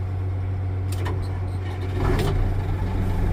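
Case 504 tractor engine running on a farm, a steady low diesel rumble with a constant droning hum throughout and a few faint higher clatters over the top.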